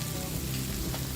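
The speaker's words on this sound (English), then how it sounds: "The squid has been frying for 3 minutes." Squid sizzles and crackles steadily in a hot pan with tamarind and fenugreek seeds for an Indian-style spicy squid sambal, a close, dense frying hiss with no voices.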